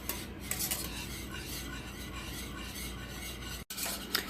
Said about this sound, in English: you're going to want to stir it frequently at this stage so it doesn't get lumpy